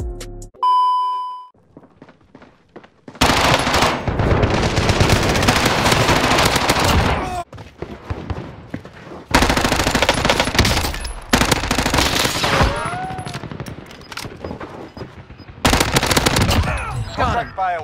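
An MP5 submachine gun with a monolithic integral suppressor fires in Warzone in several sustained, rapid bursts of dense automatic fire, preceded by a short electronic tone and chime, with brief gaps between volleys and no speech.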